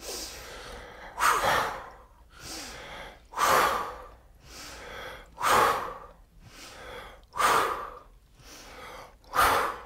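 Power breathing exercise: a person gives five strong, rhythmic breaths about two seconds apart, each a forceful huffing exhale or gasping inhale, close and clear with no talking.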